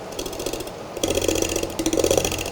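A wood lathe turns a bowl while a negative rake carbide tool works the surface, giving a steady mechanical hum with a rougher, louder cutting texture that starts about a second in. No one speaks.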